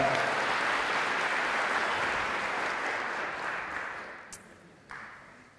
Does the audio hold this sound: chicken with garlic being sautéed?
no